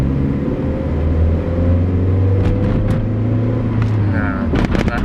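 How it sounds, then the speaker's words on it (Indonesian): A 2018 Toyota Kijang Innova V automatic accelerating in power mode, a steady close engine drone with low rumble building under the throttle, plus a few brief clicks and rattles near the end. "Saya aktifin power mode sekarang. Ini saya gas ya."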